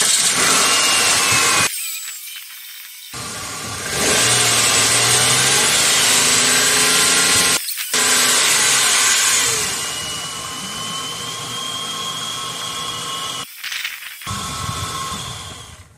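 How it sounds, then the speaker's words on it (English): A car engine starts and idles after a front crankshaft seal replacement. It is a steady, loud mid-pitched running sound with brief cuts, a low RPM misfire on two spark plugs, and no speech. "Now I start it up and check for leaks."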